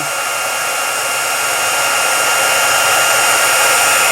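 A heat embossing tool blowing hot air steadily to melt white embossing powder on paper for a watercolor resist card, a loud constant whoosh that slightly intensifies, with no other sounds.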